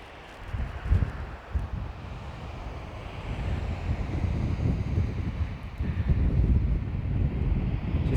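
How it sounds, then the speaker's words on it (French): Strong wind buffets the microphone in low, rumbling gusts that swell and ease, with a faint wash of surf behind, at Atlantic Wall coastal fortifications. "J'espère que vous n'entendrez pas trop le vent."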